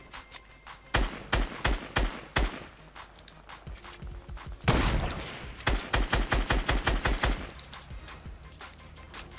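Video game gunfire comes in rapid bursts of sharp, loud shots, some in quick volleys and some single cracks, with a heavier blast near the middle.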